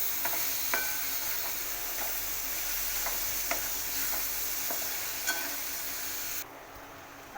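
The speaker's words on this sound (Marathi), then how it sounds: "टोमॅटो मिक्स करून छान असा पाच मिनिटं आपण ही चटणी शिजवून घेऊ" Tomato chutney cooking in a pan, with a steady soft sizzle and scattered light spoon-stirring clicks at a moderate distance; it cuts off near the end with no talk.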